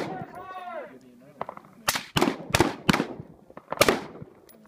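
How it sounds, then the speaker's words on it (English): Rifle shots ring out during practical rifle target shooting at a range, five sharp loud cracks spaced irregularly, after a spoken range command at the start. "Line is set, ready, fire!"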